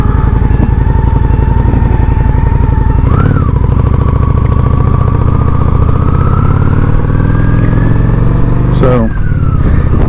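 A Honda Shadow 750 ACE motorcycle engine runs close and loud with a steady rumbling throb, its pitch climbing in two brief revs before settling back.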